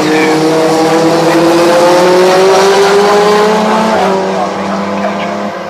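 Race cars roar past a trackside spot at the Oulton Park circuit, their loud engine notes sweeping and shifting in pitch as they pass. A commentator talks continuously over the steady, near engine noise.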